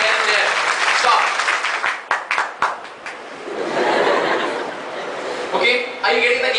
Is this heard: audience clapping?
yes